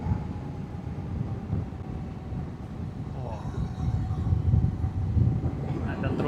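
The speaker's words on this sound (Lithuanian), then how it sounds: "Ten traukinys važiuoja." A train runs along the railway tracks near a Balkan road, heard from a motorcycle as a low continuous rumble under heavy wind noise. A voice comes in briefly over it.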